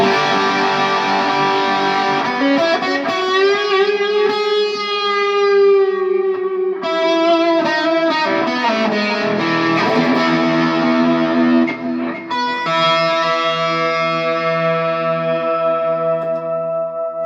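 Distorted electric guitar through a Marshall JTM Studio amp, sustained chords and ringing notes with a thick, saturated tone and some echo.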